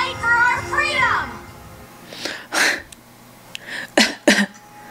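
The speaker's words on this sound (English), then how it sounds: "Where's the cough in the background?" A brief cough-like sound in the background amid an animated TV episode's dialogue, with a child-like voice speaking first and a few short bursts afterward.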